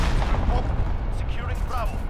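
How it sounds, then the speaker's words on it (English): Cruise missile strike in Call of Duty Modern Warfare Domination: a dense, continuous roar of explosions and rumbling blasts, loud and close, with voices talking over the barrage. "Enemy cruise missile, take cover."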